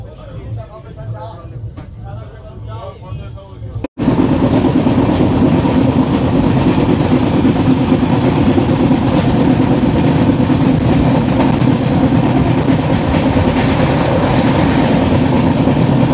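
Tamralipta Express passenger train pulling away from Tamluk station, its loud, steady rumble and rattle of carriages filling the cabin continuously after a short stretch of quieter onboard sound with a voice at the start.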